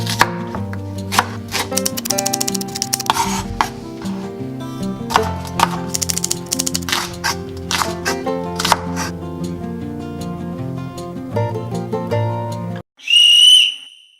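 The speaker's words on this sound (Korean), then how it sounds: "양파와 고추 그리고 파를 다 한꺼번에 손질해 볼게요" A knife rapidly chops onion, chili pepper and green onion on a board while preparing soft tofu stew with clams. Steady crisp chops run over background music, and a short whistle-like tone sounds at the end.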